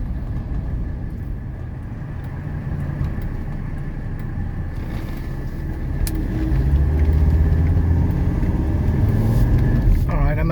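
A 1985 Mercedes 300TD wagon, low mileage and well sorted, drives along a road with a steady low engine and tyre rumble that grows louder partway through, with no talk over it.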